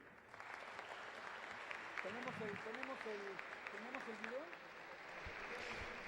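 Faint, distant audience applause at a Mexico–Africa political and trade forum, a soft clapping wash with a voice speaking over it.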